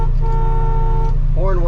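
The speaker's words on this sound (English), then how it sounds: "Horn works." A 1966 Ford Mustang's horn sounds a steady, close blare for about a second. A second, wavering honk follows near the end over a low engine rumble.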